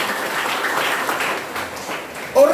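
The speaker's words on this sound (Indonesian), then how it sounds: "Yang percaya beri tepuk tangan buat Tuhan Yesus." A church congregation at Sunday worship applauding together, a dense, steady wash of clapping lasting a couple of seconds before it is cut off by a louder sound.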